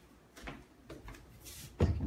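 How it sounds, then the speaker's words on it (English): Barn-style sliding pantry door in a kitchen: a few soft knocks and rolling scrapes as the door moves along its track, ending in a firmer thud, with no talking. "It even has a barnyard pantry door."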